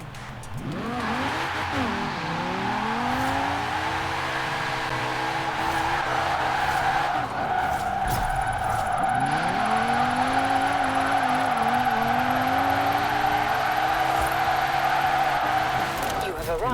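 A 2018 Alfa Romeo Stelvio Quadrifoglio with an AWD drift tune slides with loud, sustained tire squeal and swooping engine revs, rising and falling continuously at close range.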